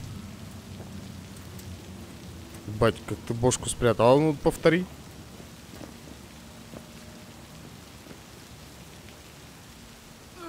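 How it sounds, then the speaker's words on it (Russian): Steady rain hiss in the video game Cyberpunk 2077 runs throughout, with someone talking briefly in Russian in the middle over the downpour. "Просто прогулка под дождем"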